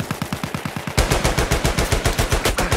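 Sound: gunfire in the video game Battlefield 1

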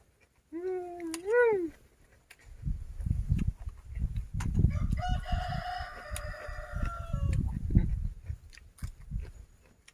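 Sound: rooster crowing and chickens clucking

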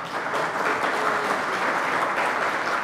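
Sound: applause

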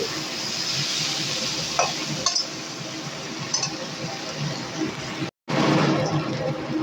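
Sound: potatoes and onions stir-frying in a pan

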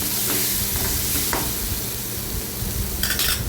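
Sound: masala sautéing in oil, stirred in a pan

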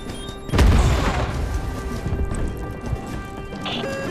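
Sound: grenade explosion in Starship Troopers: Extermination video game

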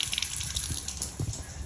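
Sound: sink tap running with low water pressure

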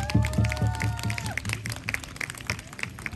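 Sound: audience applause for the pansori drummer

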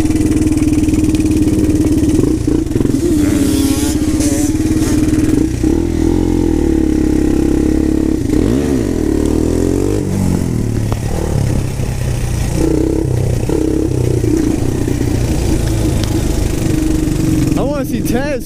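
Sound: four-wheeler ATV engine while riding

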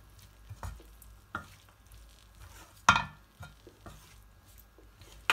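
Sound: stirring spicy cabbage and peas masala in pan

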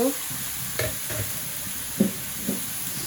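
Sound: stirring sweet pumpkin curry in a pan

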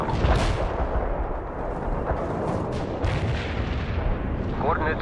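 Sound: artillery strike in video game World in Conflict

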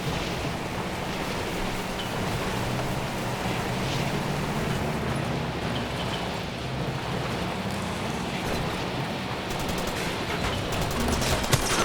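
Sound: gunfire in a video game

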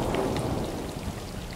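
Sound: rain and thunder in the video game Stray

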